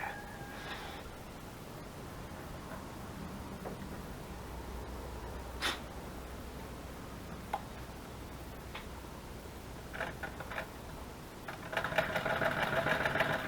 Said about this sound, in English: I love the sound of this old sewing machine.